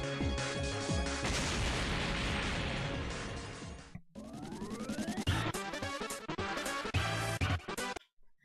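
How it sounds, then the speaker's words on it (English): Blue energy bolts fire in a video game fight, a dense run of loud synthetic zaps and bursts packed closely together, broken by a short gap halfway through, with no talk. "And now he is actually shooting blue bolts."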